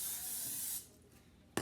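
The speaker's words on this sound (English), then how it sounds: "you're going to just spray inside of your bowl with your oil" A close spray of cooking oil into a bowl hisses for nearly a second, stops, then a second short burst starts near the end.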